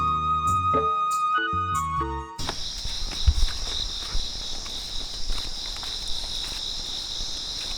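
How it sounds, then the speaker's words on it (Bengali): Crickets chirp steadily before dawn in a Tanchangya hill village beside the Tuain canal, a bright continuous trill that follows a short musical opening, with faint footsteps and soft thuds nearby. "চারপাশে ঝিঝি পোকার ডাক শোনা যাচ্ছে"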